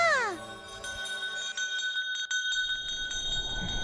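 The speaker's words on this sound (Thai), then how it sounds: "ระฆังแห่งการอวยพรก็จะดังสนั่น" A wedding blessing bell in an anime strikes once, loud and bright, and its ringing tone hangs and slowly fades while background noise and murmuring rise underneath.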